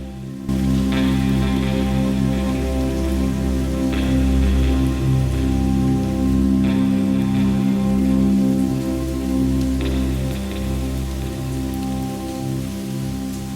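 Steady rain falls nearby at Jogeshwari Caves, a dense constant patter with occasional heavier drips over a low background hum.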